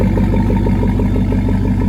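A 2001 Chevrolet Silverado engine idling in a cold garage, with a steady close rumble and an even pulsing rhythm for two seconds and no voices.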